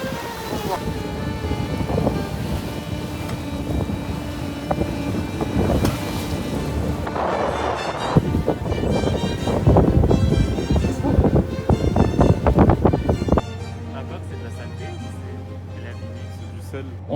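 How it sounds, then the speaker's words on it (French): Strong wind of around 50 knots at sea buffets a sailboat near Fort Boyard, producing a loud, continuous roaring rumble with gusty bursts that ease toward the end. "On est monté jusqu'à 50 nœuds de vent, 48, 50 nœuds de vent"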